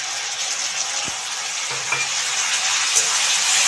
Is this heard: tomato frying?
yes